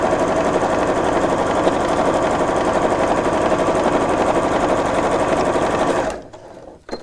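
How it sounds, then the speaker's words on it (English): A sewing machine runs steadily and close up, stitching down the seam allowance at the bottom of a pocket on a quilted tote, then stops abruptly near the end. "I'm just going to kind of sew in the seam allowance up here just to hold that together"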